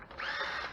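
A power tool spins a 9/16 socket to remove a bolt from a Cub Cadet mower, a brief whirring burst with a rising, wavering pitch, close and moderately loud.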